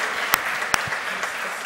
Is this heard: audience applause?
yes